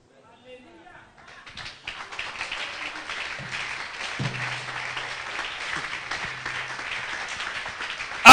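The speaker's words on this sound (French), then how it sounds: "Acclame plus fort pour la gloire de Dieu." A church congregation applauds during a sermon, the clapping building from scattered hands into sustained, dense applause that carries on with a low hum underneath.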